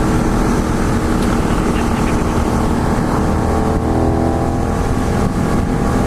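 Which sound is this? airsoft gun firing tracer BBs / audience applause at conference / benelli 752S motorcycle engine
benelli 752S motorcycle engine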